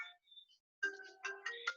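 Phone ringtone playing a short synthetic melody of bright electronic tones, a brief phrase then a rising sequence of notes, clear and isolated with no voices.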